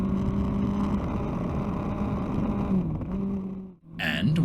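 Motorbike on a road toward Loch Ness, accelerating past a van, its engine note holding and rising under steady wind noise, then briefly dropping away before a fresh surge near the end.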